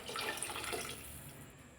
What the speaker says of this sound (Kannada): ನೀವು ಅಕ್ಕಿ ಎಷ್ಟು ತೊಗೊಂಡಿರ್ತೀರೋ ಅದರ ಅಳತೆ ತಕ್ಕಷ್ಟು ನೀರು ಹಾಕ್ಕೊಳ್ಳಿ.